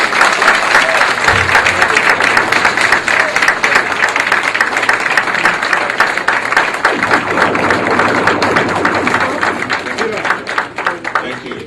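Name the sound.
applause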